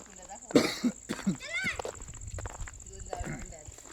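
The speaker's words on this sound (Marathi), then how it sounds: "सॉरी, खोकला येतोय मला" A person coughs several times in quick succession outdoors near a dam and former farmland, the coughs sharp and close, with talking around them.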